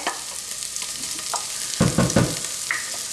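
Cashew nut cream cheese goes into a hot pan for a crab and bacon pasta and is stirred, with a steady sizzle and frying hiss and a few louder scraping stirs near the end, close and without talk.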